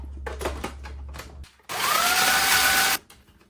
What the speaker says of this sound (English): I'm gonna pulse them in my Ninja.